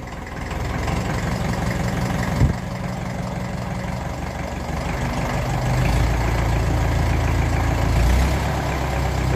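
A 1954 Ferguson 20 TEF diesel tractor engine runs close by with a steady low chugging idle, then picks up gently into a slightly higher, fuller rev toward the end, with a brief knock early on.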